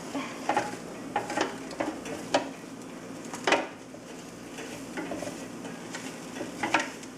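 Chicken nuggets being stirred in the basket of a Ninja Foodi air fryer, with a soft hiss underneath and a handful of separate clinks and scrapes spread across the moment.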